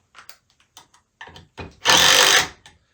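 Bosch impact driver gives a brief, loud burst of rapid hammering for about half a second, close up, after scattered small clicks and knocks of handling.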